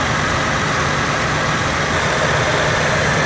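A 1978 Cadillac Eldorado Biarritz, a front-wheel-drive car, idles loud and close, a steady low engine rumble with even vibration and no change in pace.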